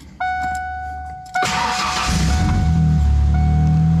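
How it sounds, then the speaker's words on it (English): A Ford Fox Body Mustang (1987–1993) engine cranks and catches after a quiet hum and a door-like thump, then settles into a loud, steady low rumble close by. "start the car"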